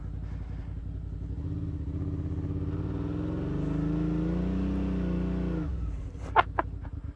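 A 2019 Suzuki V-Strom 650 motorcycle climbing a hill, its engine droning steadily and rising in pitch as it pulls, then easing off, followed by a few sharp clicks.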